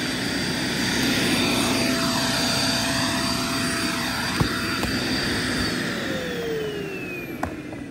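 A JML Blast Vac Pro vacuum cleaner runs with a filter clogged by fine dust, losing suction. Its motor whine swoops and shifts pitch as it labours, steady and fairly loud, with a few sharp clicks partway through.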